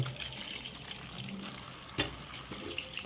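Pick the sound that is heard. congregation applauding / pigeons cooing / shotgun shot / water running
water running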